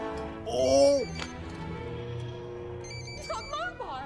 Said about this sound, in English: Hold on. That's a phone.